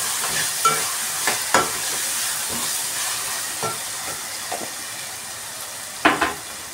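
Ginger fries in a pan for bottle gourd curry with a constant close sizzle, broken by sharp spatula scrapes and taps at irregular intervals, with no voices.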